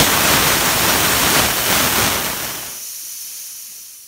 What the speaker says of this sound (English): Since this is just a water test, I'm going to go ahead and do a quick release.